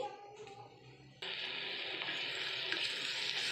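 Chopped onion dropped into hot mustard oil in a wok sets off a sudden, steady crackling sizzle that continues evenly after a quiet, faintly clattering start.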